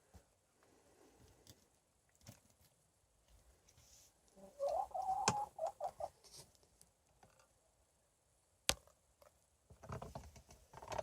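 Chickens in a backyard flock give scattered soft clucks and brief calls, close by, with a few sharp knocks and rustles breaking the quiet.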